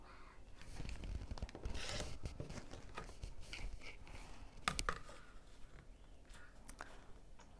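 Fabric for a patchwork block being cut, with dry snipping and crisp slicing sounds in quick irregular bursts, close up and fairly quiet, with no talking.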